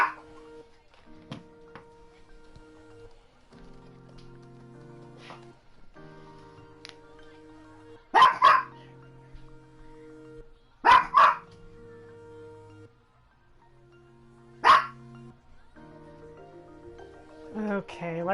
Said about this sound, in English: My dog is right behind me and she is not happy with the situation that is presently transpiring.